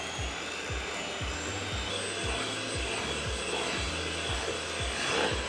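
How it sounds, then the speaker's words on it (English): An electric mixer whirs steadily while beating almond flour cake buttercream, a continuous motor drone with a regular low thumping rhythm from the beaters, close and moderately loud with no talking. "we're going to use our electric mixer and get everything really incorporated with one another"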